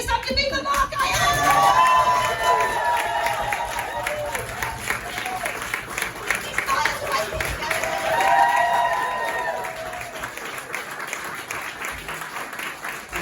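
An audience at a Cambridge community gathering claps, whoops and cheers for a speaker being introduced, a lively sustained burst with shouts rising above the clapping, peaking early and again near the middle before tapering off.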